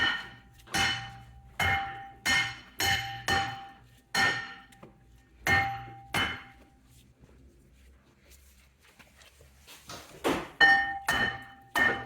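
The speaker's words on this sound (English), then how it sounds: "after working around and rotating this around and hitting with a hammer" A hammer strikes a Tesla Model S front brake rotor repeatedly, sharp metallic clangs that ring briefly, in uneven bursts with pauses, then a quicker cluster of lighter taps near the end.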